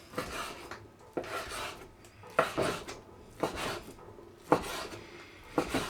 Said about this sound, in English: my big knife. Cut up this bacon